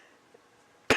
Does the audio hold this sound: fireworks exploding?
no